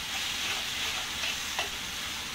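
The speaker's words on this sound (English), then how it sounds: "We'll dump that in the skillet. Stir it around a little bit, kind of let it pick up some of the little crispies off of the" Canned tomatoes being stirred in a hot skillet with crispy browned bits on the bottom, a steady close sizzle and hiss with soft scraping of the spoon, no voices.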